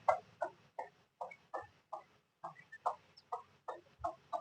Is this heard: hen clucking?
yes